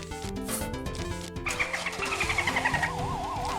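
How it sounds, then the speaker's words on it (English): A car engine in the video game Plants vs Zombies hums and revs under a backdrop of game music, with a rising whine and rhythmic pulses toward the end, fairly close. "I hear cars."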